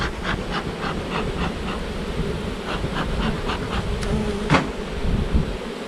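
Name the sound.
honeybees buzzing around hive frames being smoked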